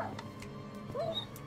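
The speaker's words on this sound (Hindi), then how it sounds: "कुत्ते के मरने का आवाज।" A Minecraft dog gives a faint dying whimper, a quick rising-falling whine near the end over a low, quiet game ambience with a couple of soft clicks.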